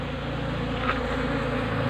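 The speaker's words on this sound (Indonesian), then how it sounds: "untuk lebah ini sudah mulai berhamburan, sudah mulai pulang lagi ya ke dalam kotak budidayanya" Honey bees buzzing as they return to their wooden cultivation hive box, a dense, continuous droning hum close to the listener, steady and loud with no pauses.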